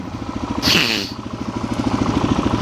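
A motorcycle engine runs steadily while riding, loud and close, with a fast rhythmic throb and a brief rush of wind noise early on.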